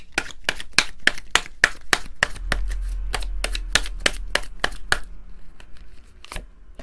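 Tarot cards snapped down and drawn one after another in a quick series of sharp, crisp clicks, close and fairly loud, with a low rumble beneath in the middle stretch and the taps thinning out toward the end.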